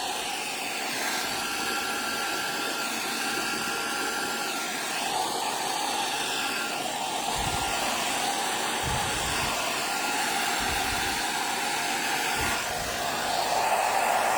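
Steady, loud rush of blown air, like a hair dryer, pushing acrylic pour paint outward from the center to form a flower, continuous and close throughout with slight shifts in pitch.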